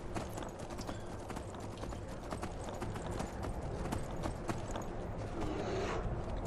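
A horse's hooves clip-clop in a rapid, steady galloping rhythm in the video game Skyrim, loud and close with no talk over it.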